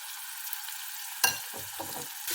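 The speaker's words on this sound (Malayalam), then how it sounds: "പൊടി ഇട്ടതിന് ശേഷം ഇതുപോലെ നന്നായിട്ട് ഇങ്ങനെ ഇളക്കി കൊടുക്കാം" Kanthari chili curry, with the spice powder mix just added, is stirred in a pan. Faint hissing gives way to a sudden scrape and a few soft, muffled stirring sounds.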